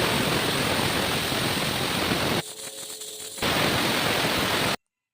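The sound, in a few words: pouring water into the pot for vegetable pulao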